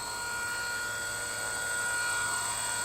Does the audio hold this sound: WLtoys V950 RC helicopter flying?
yes